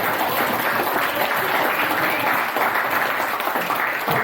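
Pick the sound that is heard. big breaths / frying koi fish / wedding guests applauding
wedding guests applauding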